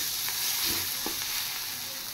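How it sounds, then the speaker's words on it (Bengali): Fried potatoes drop into a pan of curry and set off a loud, steady sizzle, with a few soft thuds and stirring scrapes as the pieces land. "এবার ভেজে রাখা আলু দিয়ে দেবো।"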